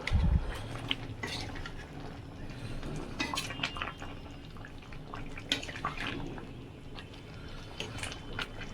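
Fish curry of shol fish with potato and tomato being stirred in a pot with fresh coriander leaves: a spoon scrapes and clinks against the metal amid soft wet liquid sounds, moderately close, with no talking.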